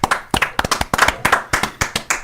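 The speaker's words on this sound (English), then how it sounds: "Round of applause." Hands clap rapidly and unevenly at close range, a short burst of sharp, loud claps like a small group applauding.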